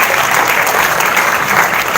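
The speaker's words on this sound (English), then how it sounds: "Once again, let's give them a round of applause." An audience at a seminar on character education gives a round of applause, a dense, loud, continuous wash of clapping from many hands.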